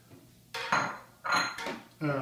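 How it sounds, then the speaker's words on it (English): Oats are stirred together in a separate bowl, giving three short, close clinking scrapes of a utensil against the bowl, fairly quiet. "in a separate bowl, you're going to stir your oats together"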